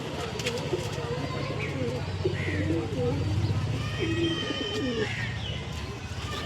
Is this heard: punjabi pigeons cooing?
yes